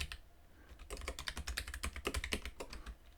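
Rapid, uneven keystrokes on a computer keyboard while code is entered for a Godot game script, close and fairly quiet, with a short pause at the start and no talking.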